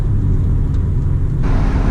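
Inside a car on a curvy mountain road, there is a steady low road rumble and engine hum, with a slight rise in wind or tire noise near the end and no talk.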